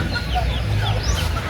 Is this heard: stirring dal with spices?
no